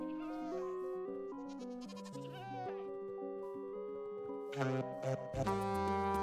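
Minecraft goats bleating in a 1.19 survival game, several long wavering bleats overlapping one after another, loud and clear, with a sharper burst near the end.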